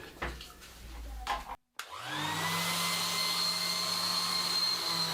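A few knocks and a brief pause come before a Silverline sander fitted with P100 abrasive starts up on wood. Its motor whirs up to speed and then holds a steady, close, high whine.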